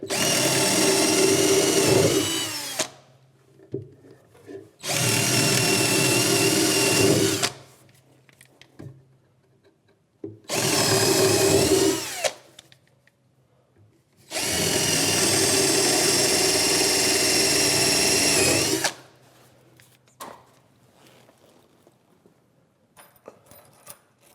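A power drill drives 2.5-inch screws into a wooden workbench in four loud sustained whirring bursts of a few seconds each, the last one longest, separated by quiet pauses with faint handling noise.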